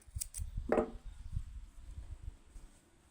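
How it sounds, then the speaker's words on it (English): A single quick snip of scissors cutting through crochet yarn, close and fairly quiet, over soft low handling noise. "Then I also cut the yarn here."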